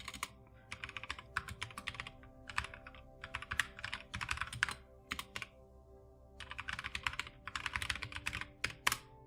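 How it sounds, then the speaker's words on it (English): Bursts of typing on a computer keyboard, entering text into a live YouTube chat, with rapid clustered key clicks separated by short pauses, close and fairly quiet with no talking. "I'll type it out in the YouTube chat for you guys."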